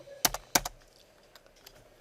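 Java code is typed on a computer keyboard: two sharp, close keystroke clusters, then a few lighter scattered taps, with no talk.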